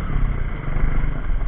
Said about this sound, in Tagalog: lowered pa ang motor natin kaya medyo hindi siya makakabilis